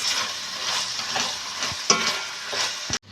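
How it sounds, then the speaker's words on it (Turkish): Onions sizzle and fry steadily in a pan, with occasional stirring scrapes and a utensil knock, ending abruptly. "Soğanlar güzelce karamelize olana kadar bir 5 dakika kadar soğanla birlikte yine kavurmaya devam edeceğiz."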